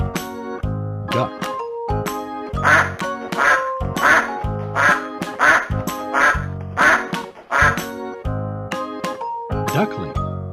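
A duck quacks in a quick, steady series of loud, close calls, set against a cheerful children's music bed.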